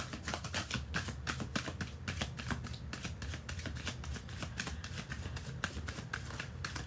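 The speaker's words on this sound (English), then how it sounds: "you may have difficulty finding words as I'm shuffling the cards" Tarot cards for a zodiac reading being shuffled nonstop, a dense, even run of crisp riffling snaps and flutters close by, with no talking.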